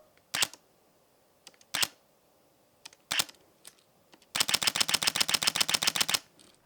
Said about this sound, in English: one minor but really satisfying part of this camera is the shutter sound.